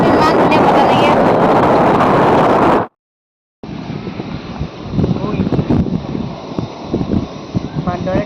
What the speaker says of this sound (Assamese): ইমান ধুনীয়া বতাহ লাগি আছে।